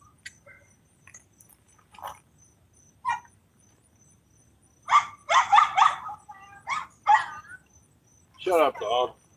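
A dog barks near a carp-fishing spot on the Black River: faint scattered noises at first, then a loud cluster of sharp, close barks and a final rough bark.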